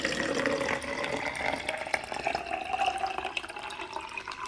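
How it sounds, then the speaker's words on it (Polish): Room-temperature water pours steadily into a small jar, a continuous splashing trickle that rises slightly in pitch as the jar fills, close and alone with no talking. "biorę słoiczek, przesuwam sobie wszystko na bok i pierwsze co, to nalewam do niego wody"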